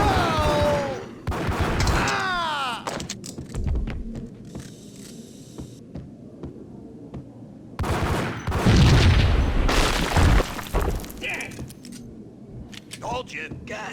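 Gunshots in the video game Max Payne crack in loud bursts mixed with booming impacts and game voices, clustering at the start and again in a dense volley midway.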